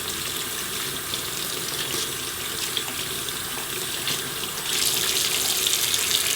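Tap water runs steadily into a sink as makeup brushes are rinsed, a continuous close splashing flow that grows louder and brighter near the end.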